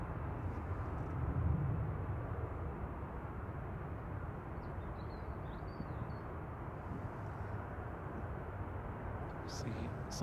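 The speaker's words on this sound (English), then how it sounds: "Air Lingus 205 cleared for takeoff" Aer Lingus Airbus A320 taking off from Manchester Airport, a steady broad engine roar held throughout at moderate distance, with people talking over it.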